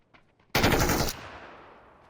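A short burst of MG3 machine gun fire in PUBG, a loud rapid string of shots lasting about half a second that ends abruptly and leaves a fading echo, preceded by a few faint distant pops.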